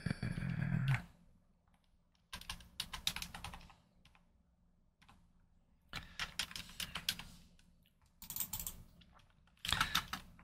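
Bursts of typing on a computer keyboard, including space bar presses, come in short clusters of quick clacks separated by silent pauses, close and fairly quiet.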